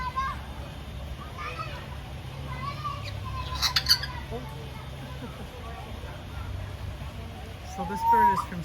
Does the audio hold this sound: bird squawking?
yes